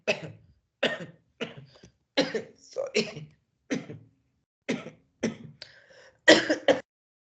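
A series of short, harsh coughs and throat-clearing bursts, close by, coming in separate clusters with brief pauses between them.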